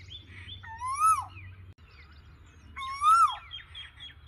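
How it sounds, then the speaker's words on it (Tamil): A grey koel perched in a tree gives two loud, rising whistled calls about two seconds apart, clear against a quiet outdoor background with faint low rumble. "கிரே கலர் குயில் ஓடி போச்சு."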